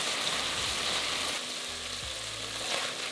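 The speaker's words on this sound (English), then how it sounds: "We're going to cook that in the pan, stir it a couple of times until brown." Beef chunks sizzle steadily as they brown in a hot pan for a beef madras curry, a close, continuous frying hiss with a few soft stirring shuffles and no voices.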